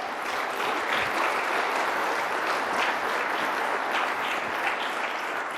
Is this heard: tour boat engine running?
no